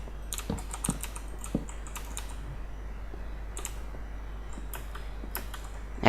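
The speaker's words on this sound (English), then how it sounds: "It's just my mechanical keyboard that's a bit loud." Loud mechanical computer keyboard being typed on at a desk, with irregular bursts of sharp, close clicky keystrokes separated by short pauses, heard alone with no talk.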